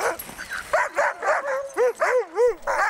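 Sled dogs at feeding time, fed on beaver meat on an expedition, bark and yip close by, giving a rapid series of high, rising and falling yelps and whimpering cries.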